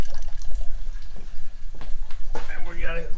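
Coolant trickles and drips steadily as it drains from the leaking water pump of a 7.3 Powerstroke diesel engine, close by and partly under people talking.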